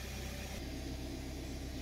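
A 2015 BMW X5 F15 air suspension compressor runs with a faint, steady low hum and rumble throughout, continuous and unbroken.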